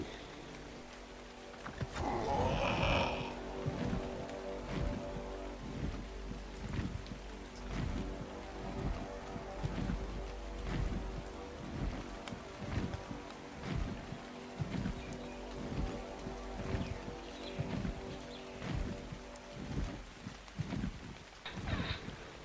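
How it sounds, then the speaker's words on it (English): Rain falls across an outdoor landscape in the game Ark, a faint steady hiss with soft repeated patters, alongside a louder brief animal-like rumble near the start. "Feels like it's the whole map is got rain on it."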